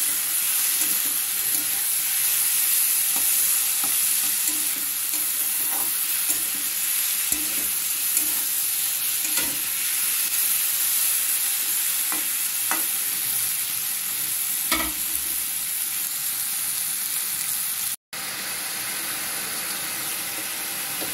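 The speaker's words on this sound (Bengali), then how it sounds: "ভালো করে নাড়াচাড়া করতে হবে, এতে আমি জল দেব না" Potatoes frying in a pan for a mourala fish curry are stirred, giving a steady close sizzle with scraping spoon strokes at irregular intervals and no talk.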